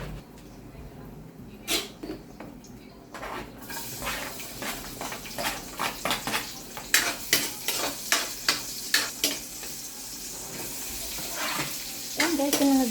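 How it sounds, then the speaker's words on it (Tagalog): Onion and garlic sizzle and are stirred in a frying pan after eggplant was fried for adobo, with rhythmic scraping strokes over a steady hiss and some water running at the start. "Kaya magigisa naman ako ng sibuyas at bawang."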